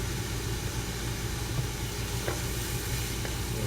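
Vegetables for lumpia sautéing in a pan with a bit of soy sauce and ground pepper, a steady low sizzle and hiss running throughout with faint scraping stirs, no voices.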